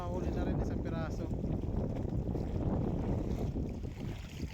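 Wind at sea during jigging from a boat roars steadily across the microphone, a loud continuous rush mixed with water and hull noise, with talk in the background.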